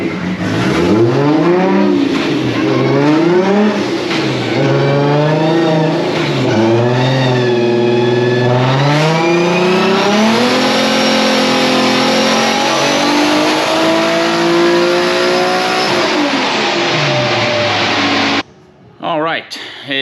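A Formula Drift Nissan 370Z on a dyno revs hard in repeated rising and falling sweeps, then holds a long sustained high-rpm pull before cutting off abruptly, very loud and close.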